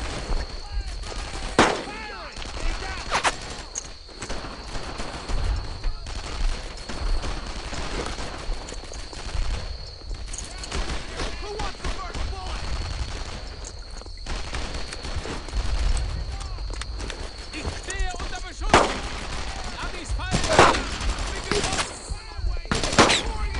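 Rifle and machine-gun fire in the World War II shooter Brothers in Arms: Earned in Blood, with sharp, loud bursts and single shots scattered across continuous battle noise.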